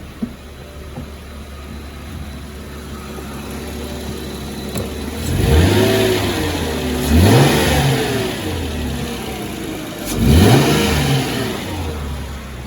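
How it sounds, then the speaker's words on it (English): A 2004 Chrysler Crossfire with the 3.2 engine idling, then revved three times in quick succession, each rev rising and falling back to idle, close and fairly loud with no talking. "I'll give it a quick rev, just to make sure."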